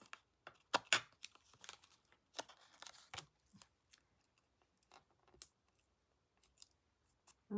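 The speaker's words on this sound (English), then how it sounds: "going to have to get my scissors out" Scissors snipping small pieces of card for a handmade greeting card, giving several sharp, close cuts and crisp paper rustles in irregular bursts, with quiet gaps between them.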